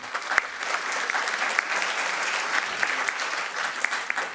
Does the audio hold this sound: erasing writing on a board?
no